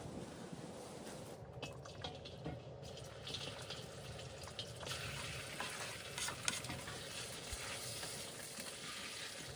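Lamb tail fat fries in a kazan with a dense, steady sizzle and crackle, fairly close and continuous, with faint stirring scrapes underneath.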